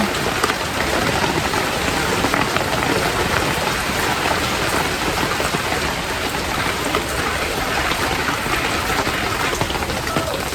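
Steady, dense rain pours continuously, a loud even hiss of drops striking surfaces with no voices.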